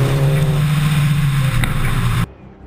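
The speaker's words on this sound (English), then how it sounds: "Sumino's custom engine and turbocharger push the Scion with a renewed veracity" Scion rally car with a custom turbocharged engine on a fast Oregon rally stage, roaring loud and close with a sustained high drone that drops in pitch before cutting off abruptly near the end.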